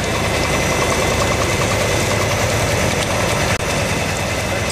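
A RugRevolution centrifuge rug wringer, loaded with a 12 by 16 rug, runs as a steady, dense mechanical whir and rumble, loud and continuous, broken by one brief dropout near the end.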